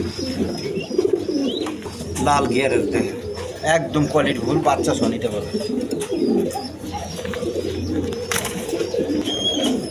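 King pigeons and other pigeon breeds cooing close by in a dealer's loft, low throaty coos repeating throughout beneath someone talking over them.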